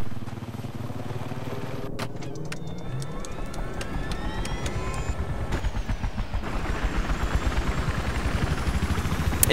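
A helicopter in the video game Battlefield 3 whirs with rhythmic rotor chopping that grows more pronounced, mixed with engine hum and occasional sharp game sounds.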